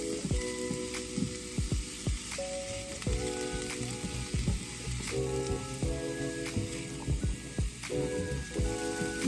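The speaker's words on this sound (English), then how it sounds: "just want some of this butter to get on them and brown around. kind of cook them just a little bit," Apple slices sizzle steadily in butter in a pan, a constant crackling fry with occasional clinks and scrapes from stirring, close and continuous throughout.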